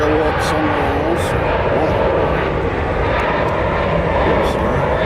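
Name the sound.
airplane taking off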